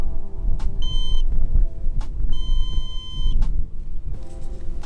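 Two short bursts of high electronic beeping from a model rocket's altimeter, each lasting about a second, over a steady low rumble of engine or wind noise.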